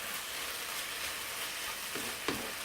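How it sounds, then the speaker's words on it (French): Salted bell peppers and carrots sizzling in a pan, a soft, steady frying hiss with a couple of brief utensil scrapes from stirring near the end, no voices. "Je mets un peu de sel pour les poivrons et carottes. Et je mélange"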